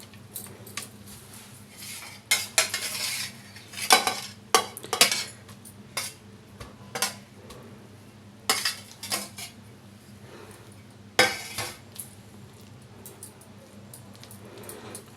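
Egg biryani rice, about ninety percent cooked, stirred in a pot: a metal spoon scrapes and clinks against the pot in irregular close bursts, with quieter gaps between strokes.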